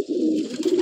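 An old Madrasi pigeon, fifteen years old, gives a single short, close, low coo.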